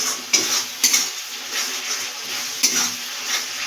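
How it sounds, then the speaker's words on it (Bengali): A spoon stirs a cooked tomato and spice masala in a pan for a brinjal curry, giving soft sizzling and scraping with several sharp metallic clinks against the pan. "আমি নাড়াচাড়া দিয়ে দেখবো টমেটোটা কি সুন্দর সিদ্ধ হয়ে গেছে"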